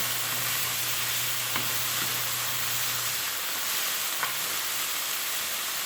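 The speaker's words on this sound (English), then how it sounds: "I'm going to add in about a ½ cup of chopped onion. And just let those cook down in there a little bit" About half a cup of chopped onion cooking down in a pan for chicken pot pie, a steady, even sizzle throughout, with a low hum in the first half and a couple of faint taps.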